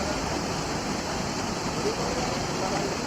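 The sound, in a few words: fast-flowing floodwater over a submerged bridge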